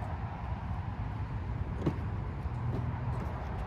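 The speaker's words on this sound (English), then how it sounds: "It's about rush hour, so cars are just zooming by." Steady low roadside rush-hour traffic rumble with cars passing nearby, a continuous engine drone and a brief whoosh as one vehicle goes by.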